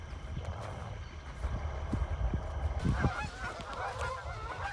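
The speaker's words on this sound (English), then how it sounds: "All these stupid geese out here." Geese honk repeatedly in an open field near old farm equipment, a flock of overlapping calls at moderate distance over steady low rumble and background noise, with a few sharper knocks and thuds mixed in.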